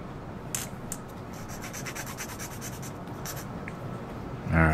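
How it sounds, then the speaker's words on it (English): Small file rubbing against a model ship part, a steady close scratchy rasp with light strokes, ending in a brief louder thump. "I'm just gonna file it down."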